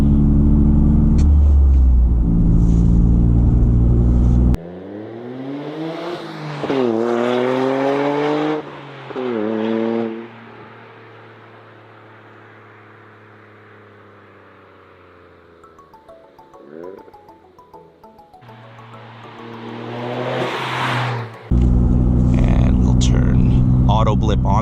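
A 2023 Toyota GR Corolla with all-wheel drive in sport mode, its engine revving and accelerating through several rising gear pulls, loud and near, easing off into a quieter stretch before surging again.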